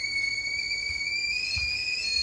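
Tea kettle whistles as water boils, a steady piercing high-pitched tone with overtones holding for a couple of seconds, with faint low background rumble.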